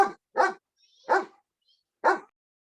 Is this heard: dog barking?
yes